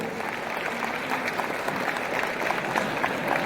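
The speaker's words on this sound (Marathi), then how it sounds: "एकदा जोरदार टाळ्या वाजवून आपल्या शाळेसाठी।" An audience at a school alumni reunion claps, a dense, steady wash of applause from a crowd that holds strong for the whole stretch.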